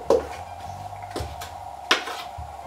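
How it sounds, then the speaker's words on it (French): A wooden spoon knocks and scrapes inside a cooking appliance, giving a few distinct hollow clacks spaced over a couple of seconds, close and fairly quiet, with no talking. "J'ai pris une cuillère en bois pour bien gratter"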